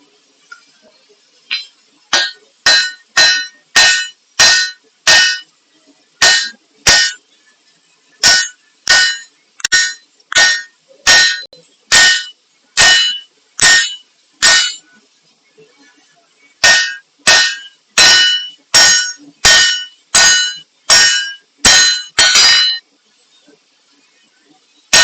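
A hand hammer strikes a forge-welded tomahawk on an anvil, ringing out in loud, bright metallic clangs. The blows land in quick rhythmic bursts separated by short pauses, close up, with no talk.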